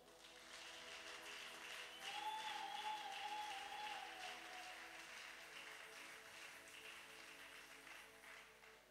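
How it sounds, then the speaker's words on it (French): A church congregation applauding, a faint, steady wash of clapping from many hands that swells slightly in the middle and then tapers off, with a sustained tone ringing above it. "On peut acclamer le Seigneur, s'il vous plaît?"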